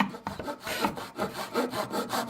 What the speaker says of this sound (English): Next I marked and cut the shoulders of the tenon that will go into the head.